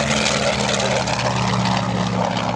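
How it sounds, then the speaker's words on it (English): A Corsair warbird flies over the runway at an airshow, its piston engine and propeller making a loud, steady droning roar close by with no break. "As the Corsair pulls up and out,"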